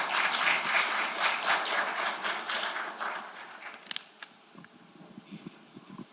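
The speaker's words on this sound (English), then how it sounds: "please welcome the chairs with a big round of applause" Audience applause at an exercise oncology conference session, a dense burst of clapping that thins out into scattered claps and fades after about four seconds.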